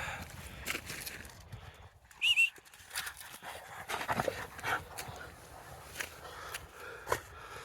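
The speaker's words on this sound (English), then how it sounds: "look at this greyhound just going for it in the snow" A greyhound running and playing in snow outdoors, its quick paw thuds and panting forming an irregular, near patter with a brief sharper squeal partway through.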